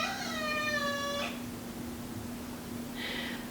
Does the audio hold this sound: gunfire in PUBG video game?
no